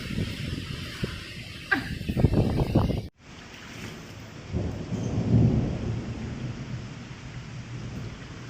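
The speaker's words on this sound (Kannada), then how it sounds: "ಜೋರು ಗುಡುಗು ಗಾಯ್ಸ್" Loud thunder crashes and rumbles close by during a heavy rainstorm, with rain pouring steadily and gusts of wind across the microphone, then a deep rolling rumble fading into the downpour.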